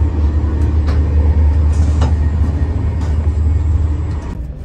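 Interior of a high-speed train travelling at about 280 km/h between Luxembourg and Paris through French countryside, a loud steady low rumble with constant rolling noise and a few faint clicks, no talking.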